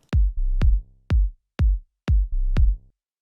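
Pitched-down sub sine bass synth from Ableton Live playing six separate low notes, each starting with a sharp attack click, some held longer with a steady hum, loud and alone without any talk.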